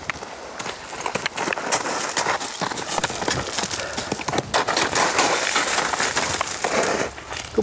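A horse being led at a walk, its hooves clopping in an irregular rhythm close by, with outdoor ambience around it.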